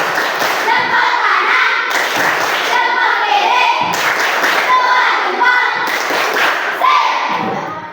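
Classroom clapping chant called tepuk jempol, led by children: rhythmic bursts of group hand claps and thumps in repeated phrases, loud and close, with voices mixed in.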